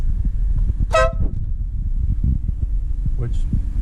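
Polaris Slingshot horn gives two short honks several seconds apart, over a low steady rumble and hum.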